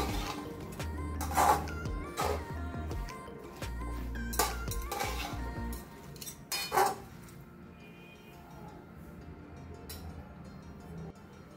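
A spoon scrapes and knocks against a cooking pot while mixed Bhogi vegetables with spring onion are stirred, giving scattered metallic clinks and a few louder clanks amid quieter scraping.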